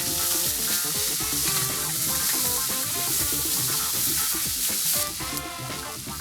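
Onions sizzling hard in a hot pan while Thai basil pork is stir-fried, a loud, dense, continuous crackle with spatula stirring scrapes throughout, close up.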